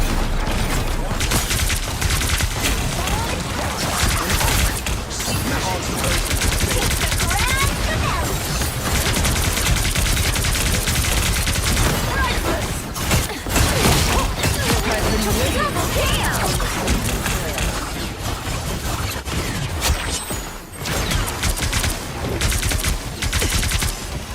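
Gunfire in a shooter video game, dense bursts of rapid shots and crashes that keep going with short gaps, loud and close, with game voices and talk mixed in.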